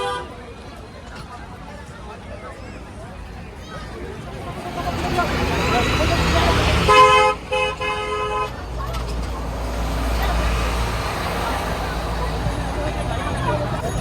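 A toy train at Eco Park in Kolkata sounds its horn in a brief, bright toot midway through, heard over crowd chatter, a nearby voice and general outdoor bustle.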